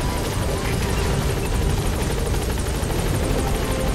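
A helicopter in Metal Gear Solid V: The Phantom Pain gives off a loud, continuous rotor roar and thrum with steady chopping, close by and unbroken.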